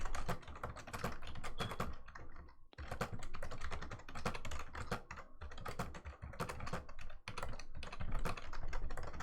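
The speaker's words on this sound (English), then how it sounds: "What are you typing, Eagle?" Rapid, continuous clatter of keys on a computer keyboard, quick irregular bursts of typing with one brief pause, close and clear with no talking.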